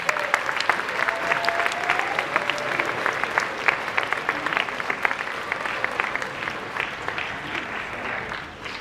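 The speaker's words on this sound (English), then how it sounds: "So give yourselves a round of applause as well." Sustained applause from a large audience at a senior high school debate event, a dense, steady wash of clapping near and loud for about nine seconds, with faint voices mixed in.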